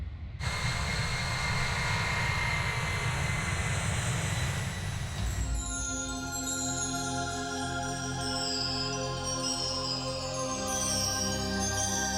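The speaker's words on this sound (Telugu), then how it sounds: "flight is landing sir" A loud airplane roar during a landing in a Telugu film scene, filling the first five seconds as a broad, steady rumble before it cuts away to sustained tonal music.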